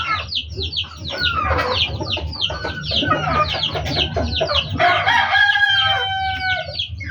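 A flock of young chicks and chickens peeps and clucks nonstop, with many overlapping high chirps close by and a low background hum beneath.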